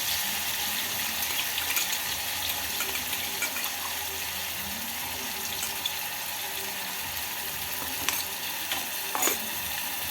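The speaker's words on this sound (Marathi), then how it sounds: "आता हे आपल्याला व्यवस्थित असं तेल सुटेपर्यंत परतून घ्यायचं आहे" Onion, tomato and ginger-garlic paste sautéing in oil for a spicy white pea curry, a steady close sizzle and hiss with a few soft stirring scrapes, and no talking.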